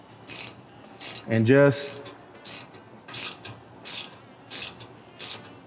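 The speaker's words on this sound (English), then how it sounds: "So you're gonna want your 3/8 socket and 7/16 box wrench." A socket wrench ratcheting on a rack bolt while installing racks on a Polaris General 1000 UTV, with several short, evenly spaced bursts of clicking up close and a brief spoken phrase in the middle.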